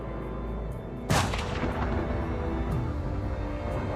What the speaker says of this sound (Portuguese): Quando os tiros param de ecoar